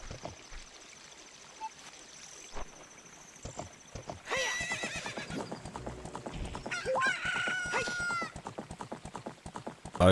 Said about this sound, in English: I do believe this horsey can come here, right?